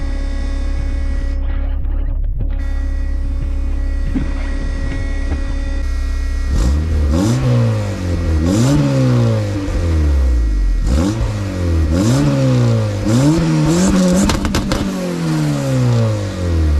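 A car engine fitted with a homemade exhaust built from recycled material idles with a fuel-pump hum, then revs hard several times in repeated rising and falling bursts, loud and close with no talking.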